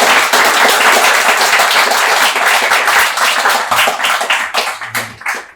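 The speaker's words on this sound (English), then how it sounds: "let's give the ladies a round of applause" Loud, close audience applause for a panel of women at a personal branding session, dense rapid clapping throughout that thins slightly in the final second.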